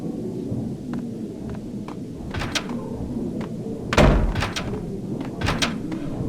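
A door in the video game Max Payne, heard over a steady low ambient rumble: several knocks and thuds, then a louder heavy slam-like impact, followed by a few more sharp thumps.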